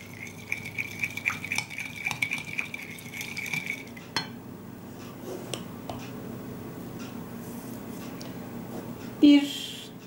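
A spoon stirs cumin, black pepper, thyme, chili flakes and paprika into a meatless potato and vegetable oven dish, giving faint scraping and light clinks against the dish, followed by one sharper knock near the end.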